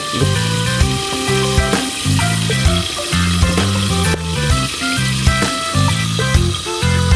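Onion and chili sizzling in a frying pan, a loud steady crackle and hiss close by, with music playing over it.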